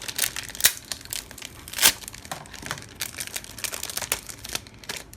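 Crinkly mail packaging is torn and crumpled open by hand, with a run of close, sharp crackles and two louder rustling bursts, and no voices.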